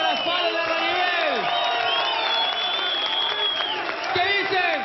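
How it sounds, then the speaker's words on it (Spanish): A live audience at the Vedetón 2012 stage show applauds and cheers a vedette performer, with sustained clapping, whoops and shouting voices filling the whole stretch at a loud, steady level. "El aplauso para Fallon de Arranivel."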